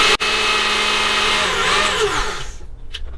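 Electric mixer whirring steadily as it blends coconut chocolate mousse, a loud sustained motor hum that winds down and fades near the end.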